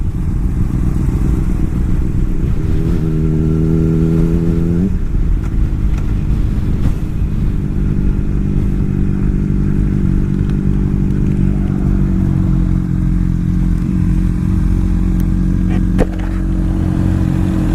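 A motorcycle ridden home from a bike rally near Cassidy, a loud steady engine drone with wind rumble, a brief rising rev around the third second, then continued cruising.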